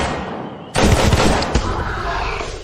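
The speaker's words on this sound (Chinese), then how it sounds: "这是枪声" Gunfire sound effect: a sudden loud burst of shots erupts, then a second sharp report follows, with a rumbling tail of echo behind.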